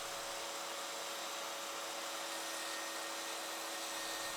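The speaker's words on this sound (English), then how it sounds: "To start, I have a piece of beech that I'll rip to 2¼ inches wide." A saw rips a beech board to width, giving off a continuous, even, high-pitched whine at moderate distance with no pauses or voices.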